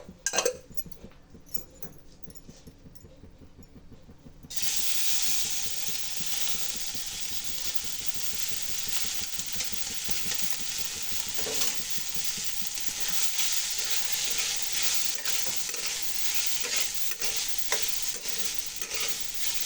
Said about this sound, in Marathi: चांगली भाजून घ्यायचे डाळीला